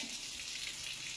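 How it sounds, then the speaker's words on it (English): Lukewarm water pours steadily from a container into a WOOWasher mini portable washing machine, a constant close hiss and splash with no pauses and no talking. "I'm going to go ahead and fill it up with some lukewarm water"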